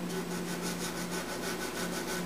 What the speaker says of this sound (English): I'm using a little 220 sandpaper on a very flat plywood block.